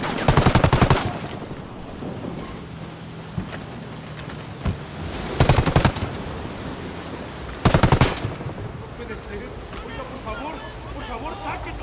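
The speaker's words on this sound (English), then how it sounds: "Opening fire." Automatic gunfire in the video game Ghost Recon Wildlands, three loud rattling bursts over steady ambient game noise, with speech present between them.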